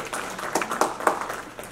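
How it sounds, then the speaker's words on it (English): Audience at a veterinary talk on hydronephrosis in dogs and cats gives a brief round of applause, a dense patter of claps lasting under two seconds in a room. "Let's give her a round of applause."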